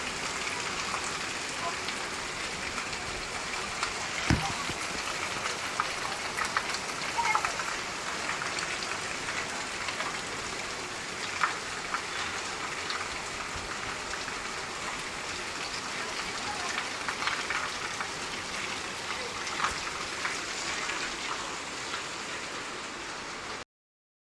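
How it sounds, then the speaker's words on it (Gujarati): Steady, dense rain pours down for the whole stretch, a continuous hiss of drops hitting surfaces, with scattered louder splashes and no pauses. "તો વરસાદ આવી ગયો એકદમ ફૂલ આમ ફૂલ"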